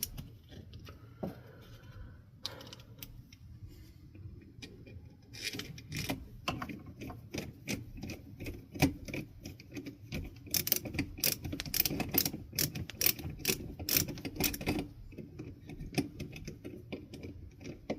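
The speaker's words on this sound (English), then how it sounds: "Put these screws back in." Screws driven back into the housing of a Lasko 3733 fan being serviced, heard as quiet, close, rapid clicking and ratcheting, with a denser run of small ticks partway through.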